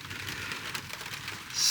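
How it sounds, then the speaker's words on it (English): Rain falls on a van as a steady, even hiss of drops drumming on the roof, close and continuous, growing slightly louder toward the end. "So it's raining again, as you can hear."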